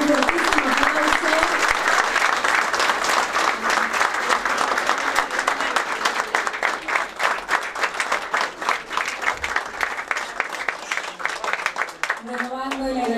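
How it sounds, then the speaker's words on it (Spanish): Dense, sustained audience applause fills a school ceremony marking the inauguration of expansion works at an agrotechnical school, steady and loud for over ten seconds, with a voice rising briefly near the end. "Y celebramos con un fuertísimo aplauso"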